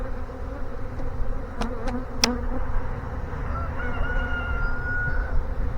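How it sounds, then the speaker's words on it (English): A honey bee swarm being installed in a hive drones with a loud, continuous, close buzz, broken by a few sharp clicks and faint whining tones. "So this is a Mr. Perry swarm"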